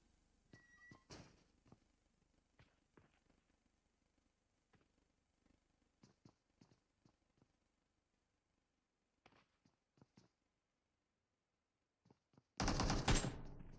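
Gunfire from a video game esports scrim match: sparse, faint single shots and short bursts scattered across a quiet stretch, ending in a sudden loud, sustained burst of fire.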